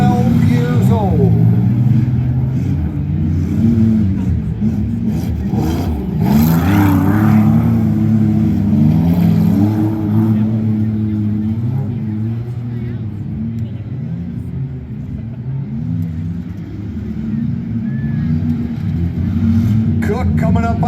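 Off-road derby cars race at a community fair, a continuous loud rumble of engines revving and surging as they circle the track, under steady commentary from an announcer.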